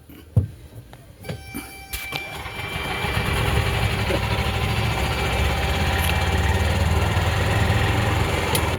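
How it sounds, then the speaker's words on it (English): The rebuilt J38 engine of a Yamaha G2 golf cart: a few knocks and clunks, then the engine catches and runs with a steady, close, buzzing drone for the rest of the clip. "I got her running, so let's take her for a little drive."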